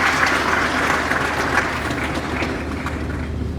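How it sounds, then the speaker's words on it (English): Loud, sustained applause from a university congregation ceremony audience honoring a group of women, many hands clapping densely and evenly for the whole stretch, close and full, with no voices over it. "Please clap for them."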